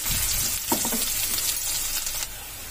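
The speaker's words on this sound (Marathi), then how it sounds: "कांदा थोडा परतत आला, कच्चा पण गेलं की लगेच आपल्याला लसूण घालून घ्यायचा आहे" Chopped onion sautéing in a pan over medium flame for a watermelon rind curry, a steady close sizzle with a few faint stirring scrapes and no talking.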